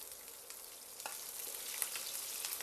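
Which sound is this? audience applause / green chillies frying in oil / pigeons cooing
green chillies frying in oil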